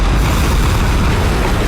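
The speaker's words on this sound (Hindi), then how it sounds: "रिमोट दबाते ही जोरदार धमाका हो गया।" Bombed containers explode on the river in the 1997 film Anaconda, a loud, dense roar of blast noise that fills the whole stretch with steady, rumbling force and no voices.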